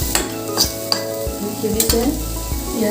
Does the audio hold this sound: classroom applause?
no